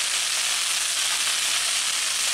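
Steady, loud hiss and sizzle from a pan of Bengali-style potato and pointed gourd curry as hot water goes in on top of the oil-fried spices, continuous and close with no voices.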